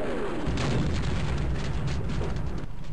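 A rocket launcher explosion on a tank in the Half-Life video game, a loud continuous roaring blast with rumbling debris filling the whole stretch, close and heavy with no pauses.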